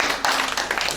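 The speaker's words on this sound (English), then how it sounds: "Clap for me." Audience clapping at a business opportunity expo, a short burst of dense, fairly close applause with quick uneven hand claps over a brief moment.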